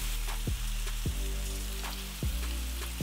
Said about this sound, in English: Once the oil is hot, we're gonna add 1 pound of ground beef